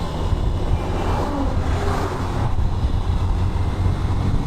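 A vehicle on the road overtakes with a continuous low engine and tyre roar, buffeted by heavy wind noise, loud and close throughout.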